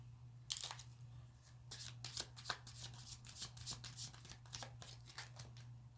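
A deck of tarot cards is shuffled close up in a quiet room, giving rapid papery riffles and soft flicks over a low steady hum.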